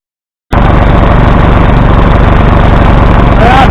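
An old tractor engine runs steadily at close range, starting abruptly after a brief silence and chugging loud and even with a rapid pulsing rhythm. No voices.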